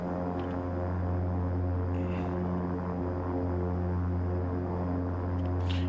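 Turboprop engines of a King Air 350 idling on the ground in X-Plane 12, a steady close droning hum with strong low tonal bands, constant and unbroken, with no talk.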